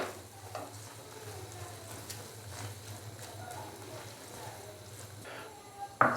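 Goat brain mixed with coriander powder and chopped green chillies is stirred in a pan, a soft low sizzle with a few faint scrapes over a steady hum, closing with a sharper clink.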